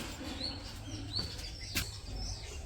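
Pet birds chirping indoors, several short high tweets scattered over a low steady background hum, fairly faint and not close.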